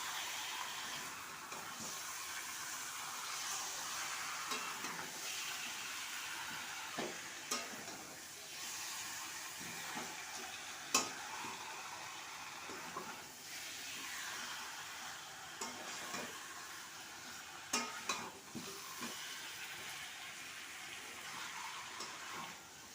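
Chicken frying in a pan with eggplant, tomato, cabbage, potato and onion gives a steady, close sizzle with occasional sharp pops and stirring clatters, with no talking.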